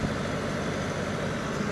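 A heavy earthmoving machine runs steadily at a pond-building site. Its engine gives a constant, loud, close rumble with no breaks.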